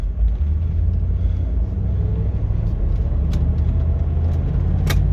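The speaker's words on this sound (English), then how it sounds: "I'll try shifting it manually this time" A car with a slipping transmission idling and being shifted manually into first gear, a steady low engine rumble with a brief mechanical clunk near the end, close and fairly loud.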